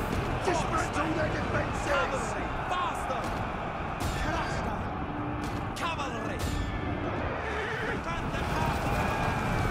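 Battle sounds from the video game Total War: Thrones of Britannia: horses whinny and neigh over a dense, steady din of galloping hooves, clashing and crowd noise, with continuous loud sound throughout.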